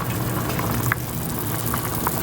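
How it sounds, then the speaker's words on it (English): Cashews boil in a pot of water on the stove, a steady bubbling hiss with a few louder pops now and then, heard close up with no talking. "Your cashews are boiling and they should look like this"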